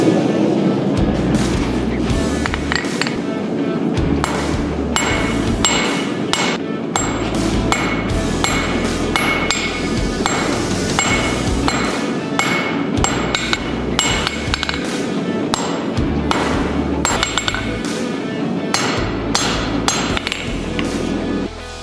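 Repeated heavy hammer blows strike hot metal on an anvil during blacksmith forging, ringing sharply in a steady, fast rhythm throughout, close and loud with no speech.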